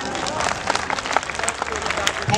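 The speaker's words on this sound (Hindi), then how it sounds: "ताली बजाकर आशीर्वाद दीजिए।" Audience clapping steadily and loudly at a live Bhojpuri stage show featuring Pavan Singh and K K Goswami in Thane, a dense continuous wave of applause from the crowd with no voice on top.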